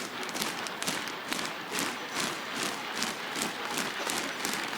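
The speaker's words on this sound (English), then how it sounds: "the applause begins to climb" Spectators applaud and cheer at a biathlon race in Stockholm, a steady crowd clapping that rises and falls with a rhythmic pulse and keeps going for the whole stretch.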